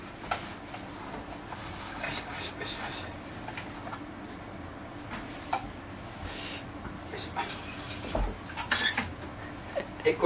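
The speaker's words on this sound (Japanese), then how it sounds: "これメスティンって洗うの大変だね。" A mess tin cooking pot gets scrubbed after cooking carbonara with fried egg, with faint intermittent scraping and clinking of metal while people talk quietly.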